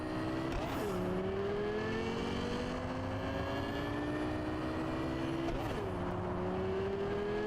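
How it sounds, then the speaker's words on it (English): A car driven in Cyberpunk 2077 (Phantom Liberty), its engine drone climbing steadily and dropping back at two clear gear shifts, close and continuous with no voices over it. "I like the changes they've done to the sounds of the cars"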